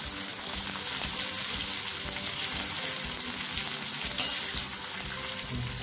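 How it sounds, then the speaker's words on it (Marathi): Green chillies and finely chopped coriander sautéing in hot oil in a pan, a steady close crackling sizzle that runs without pause, with faint scraping as the mix is stirred. "तर आता हे काय चांगलं परतून घ्या."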